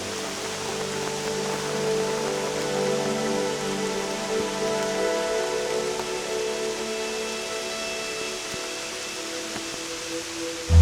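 Steady rain patters on surfaces on Mount Tambuyukon in Borneo, a constant even hiss with no voices, continuing throughout.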